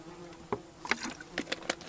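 Horseflies buzzing in the taiga: several faint insect passes and wingbeat whines drift in and out against a quiet background, with no talking.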